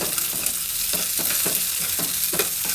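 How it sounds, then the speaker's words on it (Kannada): Green beans being lightly fried in oil in a pan, a steady close sizzle broken by regular scraping stirs about every half second, with no voices. "ಹುರುಳಿಕಾಯಿನ ಮಾತ್ರ ಎಣ್ಣೆಯಲ್ಲಿ ಸ್ವಲ್ಪ ಬಾಡಿಸ್ತೀನಿ"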